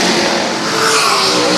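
Race cars at Central Texas Speedway roar down the back straightaway toward turn three, a dense, loud, continuous wash of engine noise with no voices.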